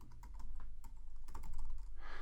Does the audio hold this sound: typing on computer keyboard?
yes